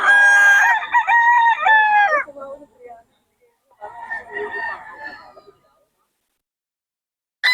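A gold sweater gamecock rooster from a prized bloodline crows loudly and close for about two seconds, then gives a second, rougher burst of crowing and clucking after a short pause.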